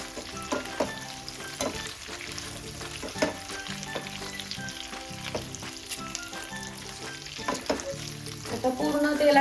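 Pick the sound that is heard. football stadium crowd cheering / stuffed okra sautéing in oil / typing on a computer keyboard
stuffed okra sautéing in oil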